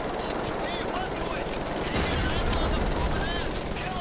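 Automatic fire from an MG46 machine gun in Wolfenstein: The New Order, a steady, dense rattle that runs the whole time and grows louder and heavier partway through, with a voice talking over it.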